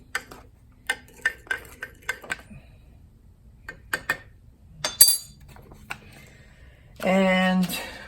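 A spoon clinks against a small pot while Egyptian-style Arabic coffee is stirred, giving sharp, irregular taps at close range, then a brief louder scrape and a burst of other noise near the end.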